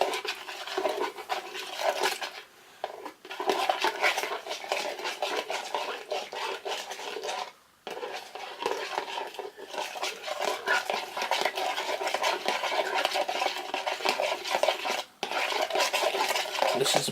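A cheese bread mixture is stirred in a bowl, giving continuous scraping, swishing strokes of a utensil against the bowl with brief pauses, close and moderately loud, no speech.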